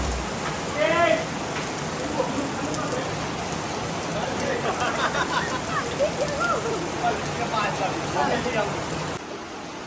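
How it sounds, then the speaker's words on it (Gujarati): Sudden rain falling outside a home, a steady broad wash of drops on surfaces, with voices talking over it before the sound cuts off near the end. "એટલે અચાનક વરસાદ ચાલુ થઈ ગયો."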